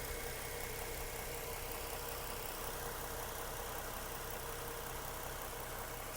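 A 2015 Mustang 50th anniversary edition with a 3.7 liter V6 and 6-speed manual idles up close, a steady, even mechanical hum with faint vibration running unbroken throughout.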